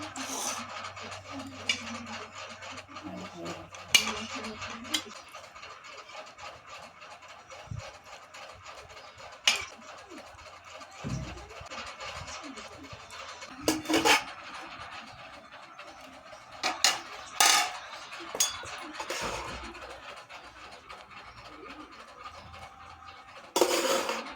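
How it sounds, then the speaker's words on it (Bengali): Jackfruit and shrimp curry being spooned into a bowl, with scattered scraping and knocking of a utensil against the dishes and brief louder clinks spread over a quiet background. "এঁচড়ের তরকারিটা যে বানিয়েছিলাম এখন বাটিতে দিচ্ছি"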